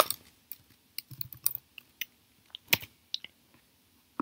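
Quiet, close typing on a computer keyboard, an irregular run of light key clicks with short pauses between them and no talking.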